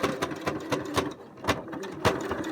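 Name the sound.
sewing machine back stitching elastic for face masks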